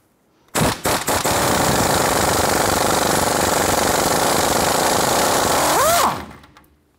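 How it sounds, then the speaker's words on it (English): Impact wrench with a 21 mm socket loosening a castle nut on a 1993-1997 Ford Ranger tie rod end, giving a few short bursts, then a loud sustained rattling hammer for about five seconds and a whining spin-down, close by. "I'm gonna go ahead and use our 21 millimeter socket on our castle nut here."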